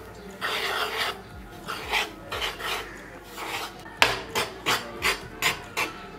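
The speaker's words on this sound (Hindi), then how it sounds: "गेहूं के आटे को हम थोड़ा सा तवे पे भून लेंगे" Whole-wheat flour is dry-roasted on a tawa griddle and worked with a utensil, giving rhythmic rasping scrapes in uneven bursts that turn into short, regular strokes near the end. No voices are heard.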